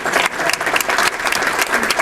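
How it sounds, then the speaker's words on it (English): Audience applause at a hall of fame induction ceremony, a dense, steady crowd clapping that holds at full strength through the whole stretch. "let's hear a round of applause for that"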